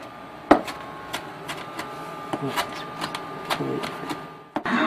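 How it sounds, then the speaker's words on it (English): A large kitchen knife chops fresh cilantro and parsley on a board, sharp uneven thuds and taps in quick irregular bursts, close and fairly loud. "I'm going to use my husband's scary knife to chop it up"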